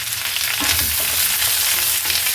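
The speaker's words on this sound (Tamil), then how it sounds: "நல்லா வதக்கணும்" Steady, dense sizzling of onions sautéing in a hot pan, loud and continuous with no voices.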